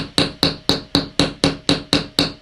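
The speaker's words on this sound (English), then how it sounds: "I kind of prefer the chasing hammer." Nine sharp, evenly spaced metallic taps from a chasing hammer striking a wire rivet in jewelry making ring out in a quick, steady rhythm, close and loud.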